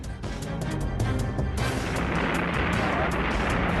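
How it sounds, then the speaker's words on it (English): Archival rocket liftoff: a loud, sustained roar and rumble that builds and holds steady throughout, with crackling low-end thunder, and a faint voice underneath early on. "Liftoff. We have a liftoff."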